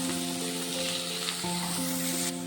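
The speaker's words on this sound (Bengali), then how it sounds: "এবারে দিয়ে দেব কেটে রাখা আলু, দিয়ে দেব 1 চামচ নুন, 1 চামচ হলুদ গুঁড়ো দিয়ে আলুটাকে ভালোভাবে ভেজে নেব" Diced potatoes hiss and sizzle in hot oil with salt and turmeric, a steady close crackle with a brief stir or clatter midway.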